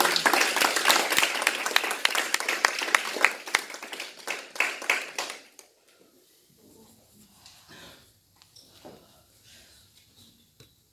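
A church congregation claps and cheers in worship, loud dense applause for about five seconds that then abruptly fades to near silence with a few faint scattered sounds.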